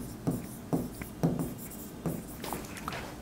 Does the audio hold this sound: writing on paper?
yes